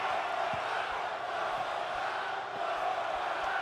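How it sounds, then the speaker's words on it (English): In the WWE 2K25 video game, a Hell in a Cell arena crowd keeps up a dense, steady roar of chanting, loud and continuous throughout with no distinct pauses. "The crowd chanting one more time."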